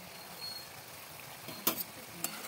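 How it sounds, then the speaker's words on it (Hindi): Spiced vegetables (pointed gourd bhaji with chilli, salt, coriander powder, black masala and turmeric) stirred in a pan, a steady low sizzle with two brief sharp scrapes of the spoon midway and near the end. "आपण याला मिक्स करून घेऊ"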